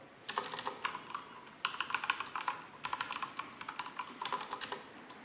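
A Corsair K70 RGB TKL mechanical keyboard being typed on: quiet, crisp key clicks in quick irregular bursts with short pauses between runs, close and alone without speech.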